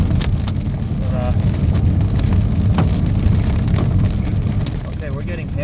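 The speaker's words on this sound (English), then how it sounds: "okay, we're getting hailed on." Pea-sized hail falls steadily during a strong nighttime thunderstorm in Reno, Nevada, a dense continuous patter with occasional sharper ticks, heard close and loud throughout.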